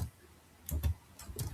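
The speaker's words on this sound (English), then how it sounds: "when I am typing" Faint, quiet typing on a computer keyboard, a few scattered key clicks in quick clusters, with no one talking.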